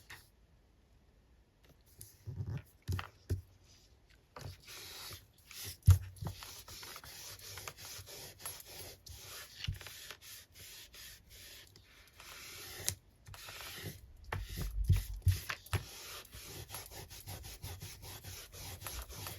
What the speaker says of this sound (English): There, rub that glue off.